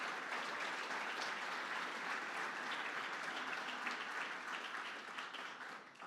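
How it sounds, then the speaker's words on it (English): Sustained applause from a large audience at a global environmental summit for event sponsors, a dense, even roar of clapping that holds for several seconds before easing slightly at the end. "So huge round of applause for our in-kind sponsors as well."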